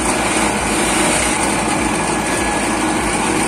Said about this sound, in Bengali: মেশিন স্টার্ট হয়ে গেছে।